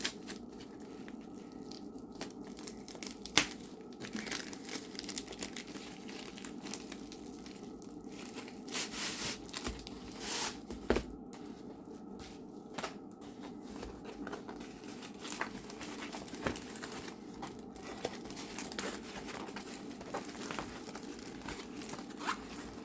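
A diamond painting canvas being unboxed, its plastic packaging crinkling, rustling and tearing in scattered bursts, faint and close, with no talk.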